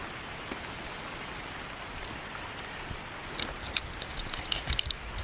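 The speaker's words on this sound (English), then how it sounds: "It's starting to rain." Rain falls in a rainforest near a beach as a faint, even hiss, with scattered drops pattering more audibly toward the end.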